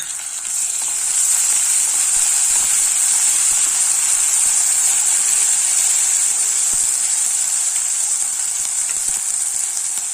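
Ginger garlic paste frying with onions in a pan for coconut milk rice, a strong continuous sizzle and hiss, close and steady throughout with faint stirring taps and no talk.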